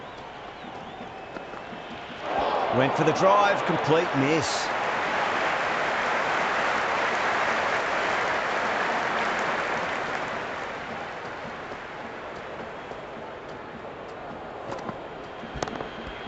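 A virtual cricket stadium crowd in the game Cricket 26 swells into loud sustained cheering and applause for a T20 World Cup match between India and Namibia in Delhi, with brief commentary over the roar before it slowly subsides.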